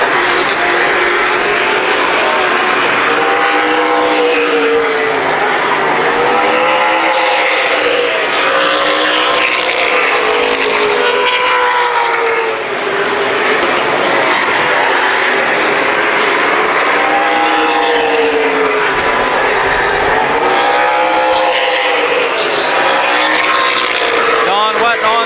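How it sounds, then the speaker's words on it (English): Race cars at Columbus Motor Speedway roar through a 2007 main event, a loud, continuous engine drone that rises and falls as the pack laps and passes, never letting up. "Terry Seneker running the outside lane, trying to get a run to pass Steve Needles for the race lead."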